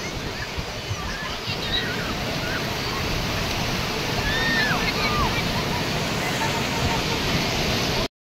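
Sea waves breaking on Divyagar beach, a continuous washing surf with some wind buffeting the microphone, while a few distant cries and calls sound faintly over it.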